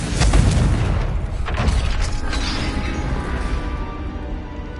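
A Confringo spell blasts a gate in Hogwarts Legacy, a loud booming explosion at the start followed by a second burst and a long rumbling decay.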